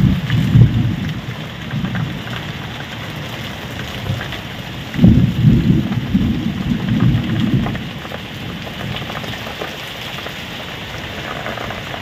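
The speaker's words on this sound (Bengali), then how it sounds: "আজকে বৃষ্টি ঝড়টা।" Heavy rain falls steadily during a night storm with wind, heard from a window near palm trees, with low rumbling thunder swelling at the start and again midway, loud and continuous with no speech.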